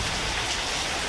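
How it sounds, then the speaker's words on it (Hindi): Heavy rain pours steadily over farm fields, a dense, continuous hiss of drops close by and loud, with no voices. "बारिश भी बहुत ज़्यादा भयंकर लग चुकी है, बहुत ही ज़्यादा भयंकर, कम नहीं हो रही है"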